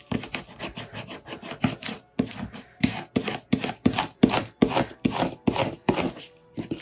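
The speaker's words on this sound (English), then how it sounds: "Hear those air pockets being scraped out of there." A smoothing tool scraping air pockets out of vinyl letters on a DIY pumpkin sign, a close, rhythmic series of firm rasping strokes repeating about twice a second.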